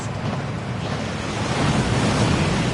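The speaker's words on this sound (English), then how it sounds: "That waterfall washes away all enchantments." A waterfall in a Harry Potter video game on PS4 gives a loud, steady broadband rush of falling water that stays constant and close, with no speech.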